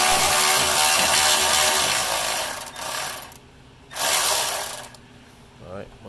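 An 8mm socket ratchet works on the intake manifold of a Dodge Journey, with busy mechanical clicking and whirring bursts near the microphone, two louder spells separated by a quieter gap and a short click near the end.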